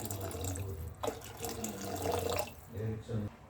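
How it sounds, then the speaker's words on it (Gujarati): Hot water pours into a pressure cooker of pav bhaji in short bursts, splashing and gurgling, with a person speaking between pours. "પાણી આપણે ગરમ જ એડ કરવાનું છે"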